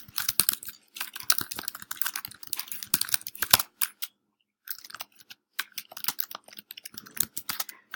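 Quick, irregular clatter of typing on a computer keyboard, close and crisp, with a brief pause midway before the keystrokes resume.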